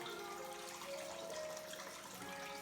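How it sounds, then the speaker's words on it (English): Dirty water left from washing ribs is poured out, a steady, close, continuous splashing wash of liquid running throughout with no speech. "I'm going to empty this dirty water out."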